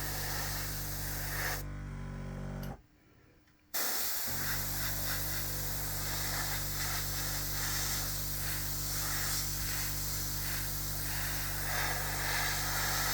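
Blue paint sprayed onto an O scale model of the Mallard steam engine: a steady, close airbrush-like hiss that drops out briefly, then resumes and runs continuously.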